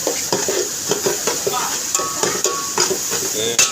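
Tempering sizzles loudly in a pan as it is stirred, with regular scraping and clinking strokes over a steady close hiss.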